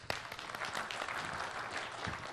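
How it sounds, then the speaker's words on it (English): Audience applause at a tech conference session, a brief, fairly quiet patter of clapping from a crowd that stays steady throughout. "Let's hear applause for me."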